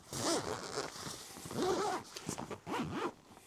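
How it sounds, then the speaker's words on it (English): Zips on the pocket of a motorcycle backpack being pulled, three quick rasping zipper strokes close to the ear, each a short buzzing pull with brief pauses between. "This one has 2 zips each pocket."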